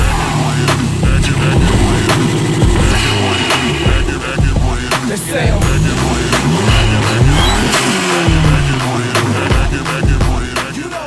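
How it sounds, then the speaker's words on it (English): A street car's engine revs hard and loud at close range, repeated throttle blips rising and falling in rough bursts over a steady rumble, with no talk over it. "Steve, do you mind if we rev this bad boy up and see what it sounds like"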